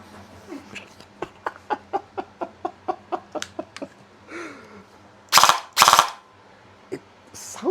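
A GQH SQB gel blaster toy fires a rapid string of about a dozen sharp, close snapping shots, followed after a pause by two loud, longer bursts and one last single shot.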